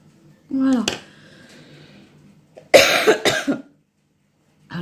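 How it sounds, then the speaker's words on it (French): A couple of short, harsh coughs near the start, followed later by a burst of close speech from one person. "Alors oui, je vais peut-être tousser un peu."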